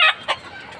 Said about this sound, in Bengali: আমাদের মুরগিগুলি এখানে বিভিন্ন রকম, এখানে সোনালি ক্লাসিক, ব্ল্যাক অ্যাস্ট্রোলপের মোরগ